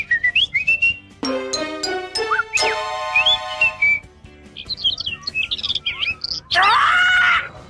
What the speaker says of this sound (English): What's the little bird saying, Anthony?